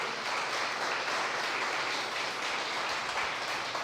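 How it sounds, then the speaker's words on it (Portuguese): A church congregation claps in a steady, moderately distant wash of applause that carries on evenly throughout with no voices above it. "Você pode aplaudir a Ele que é maravilhoso?"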